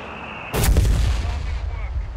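A single heavy mortar shell bursts in a Company of Heroes 3 battle, a sudden loud boom that rumbles and decays over about a second and a half against quiet ambient game noise.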